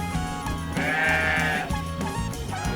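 Sheep and goats at a campsite farm bleat close by, one long wavering cry standing out over a busy background of other animals and outdoor noise.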